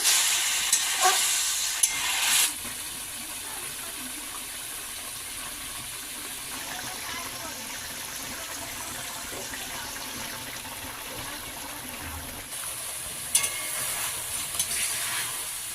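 Water added to a simmering okra and potato curry: a brief pouring splash at the start, then a long steady bubbling simmer and faint sizzle, followed by a stirring clatter near the end, with no voices.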